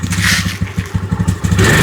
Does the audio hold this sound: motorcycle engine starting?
yes